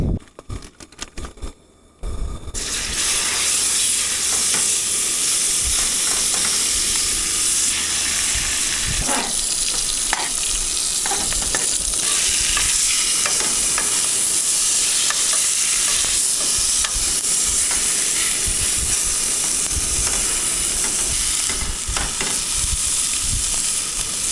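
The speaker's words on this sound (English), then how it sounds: "while that steak's finishing up cooking" Steak frying in a pan at an outdoor cook, giving a loud, steady, continuous sizzle with crackles and spits that runs almost the whole time after a brief quieter start.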